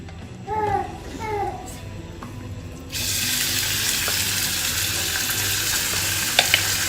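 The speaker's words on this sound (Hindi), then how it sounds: "चिकन के लिए मैंने अलग से पैन लिया है और हम करेंगे चिकन को फ्राई।" Chicken fries in a separate pan while making Pakistani-style pasta: a steady, close hiss of sizzling fat sets in partway through and carries on evenly, following a quieter start with a few brief chirping tones.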